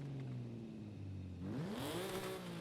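A stock Nissan 370z Nismo engine in Forza Horizon 5 revving at a fairly low volume, holding a steady tone before rising sharply in pitch as the revs climb, heard alone without talk.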